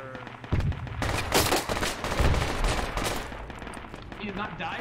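Dense gunfire in the Project Reality military shooter game, with rapid automatic bursts and loud overlapping shots that run nearly continuously, close and heavy.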